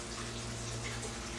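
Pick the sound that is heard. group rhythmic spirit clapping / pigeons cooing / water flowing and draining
water flowing and draining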